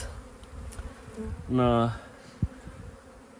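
A honeybee flies close past a transparent beehive and buzzes loudly for about half a second against a quiet background, followed by a faint knock.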